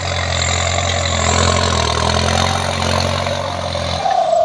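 A tractor's heavy diesel engine idles with a steady low throbbing hum, close by, before the pitch shifts near the end.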